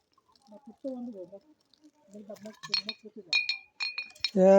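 A voice is heard briefly, then glass bottles hung as a bird scarer in a mango and cashew orchard clink together in quick, bright bursts as they are shaken, loud and close.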